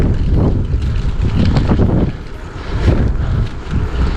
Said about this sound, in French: le vent est en train de souffler un peu plus fort